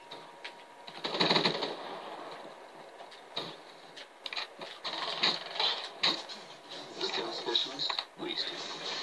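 Rapid bursts of automatic gunfire from the HVK-30 rifle in a team deathmatch video game, crackling in several clusters over a steady game background while a player talks.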